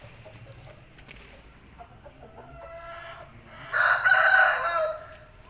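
An aseel rooster crows once, loud and close, with a strained, drawn-out call near the end, preceded by soft clucks and faint background noise.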